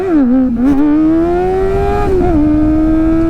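Kawasaki ZX-4R motorcycle engine revving loud and close, a steady high rev with a short dip partway through, then a quick drop in pitch as the throttle is snapped shut, with no talk over it.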